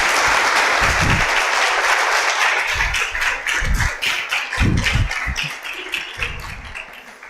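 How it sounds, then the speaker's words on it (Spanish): Loud, dense applause from an audience at a ten-year anniversary celebration, a steady wash of clapping with some heavier thumps, gradually thinning toward the end. "vamos a dar un fuerte aplauso a Sergio Fernández."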